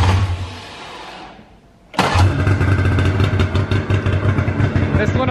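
Brand-new snowmobile engine fires up after a quiet moment and runs steadily, its loud buzzing idle warming up close by with a fluttering, uneven rhythm.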